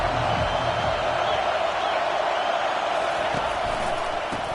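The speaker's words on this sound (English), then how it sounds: "This crowd bringing an ear-splitting welcome to their visitors." Massive stadium crowd at an NCAA college football game roaring a continuous, loud welcome, a dense wall of cheering noise that holds steady throughout with faint voices mixed in.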